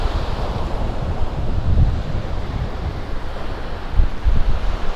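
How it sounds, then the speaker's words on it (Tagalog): Heavy surf crashes and rumbles nearby, with gusting wind buffeting the microphone over a continuous roar of water. "lalaki ng alon"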